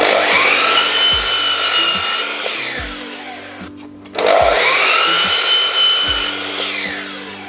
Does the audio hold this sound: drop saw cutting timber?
yes